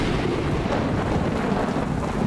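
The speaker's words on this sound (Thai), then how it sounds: "ฝนบ้าอะไรมาตกเดือนกุมภามึงบ้าแน่ๆใครจะพกร่มทัน" A sudden February rain shower makes a steady, broadband hiss like wind-driven rain that holds at an even level without a break.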